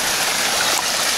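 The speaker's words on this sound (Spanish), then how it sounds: "Así podemos tener el agua corriendo un buen rato y que la escuchemos y disfrutemos ahí cómo va cayendo el agua." Water rushes steadily through an irrigation channel (acequia) in Granada near the Alhambra, a close, continuous bright gurgling flow with no pauses.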